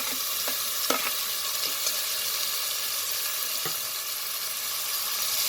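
Ginger garlic paste and tomato stirred in a hot pan, a steady soft sizzle with a few scraping spoon strokes and light clinks against the pan.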